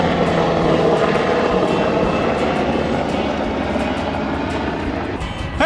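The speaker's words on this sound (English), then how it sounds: "Whoever's flying that helicopter, I wish you'd have came down and made my hat blow off." A helicopter passes overhead near the water at a fishing spot, a loud, steady broadband rotor and engine roar that fills the whole stretch without fading.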